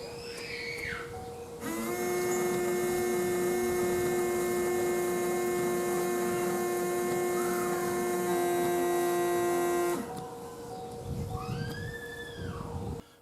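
Replacement windshield washer pump running during a test, a steady electric buzzing hum lasting about eight seconds, with quieter background before and after.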